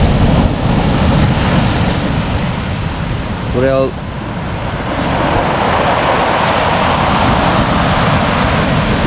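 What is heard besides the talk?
sea surf breaking on Irish shore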